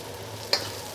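Onions frying in hot oil in a pan while making seafood pan-fried noodles, a steady soft sizzle with one brief scrape or clink of a ladle edge midway.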